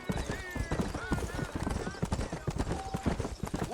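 Rapid clip-clop of a galloping horse's hooves in the Western game Red Dead Redemption, a quick rhythmic pounding mixed with occasional whinnies and someone talking over it.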